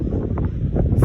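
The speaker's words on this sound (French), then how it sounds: "Alors là, je peux vous dire que ça souffle." Strong wind buffets the microphone outdoors in low, rumbling gusts that rise and fall across a brief moment, loud and close.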